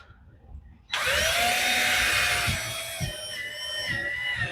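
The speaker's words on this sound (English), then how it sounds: "You just put your drill in." A power drill whirs up abruptly and bores into wood, its high motor whine holding steady for several seconds with slight pitch dips as the bit loads up. The drilling is close and loud, with no talking.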